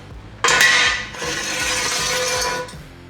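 A Harbor Freight Daytona 3-ton floor jack lets down with a sudden metallic clunk, then a steady hissing, creaking release as it lowers, close and alone.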